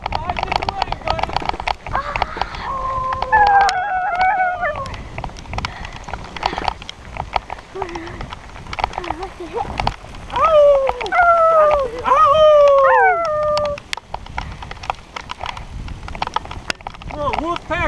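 Several mountain bikers let out long rising howls in two bursts, mimicking wolves, on a trail in the rain at Angel Fire, New Mexico, amid rustling noise and scattered talk.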